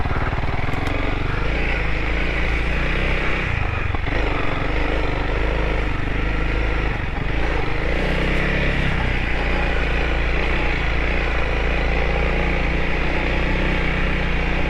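Honda CRF300L dual-sport motorcycle engine droning steadily while riding on a balding stock rear tire, a loud, continuous single-cylinder buzz with slight rises and dips in pitch, no voices.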